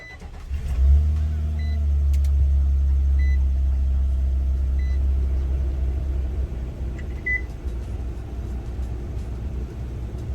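A pickup truck engine cranks and catches, then settles into a loud, steady low idle rumble that carries on alone for about nine seconds.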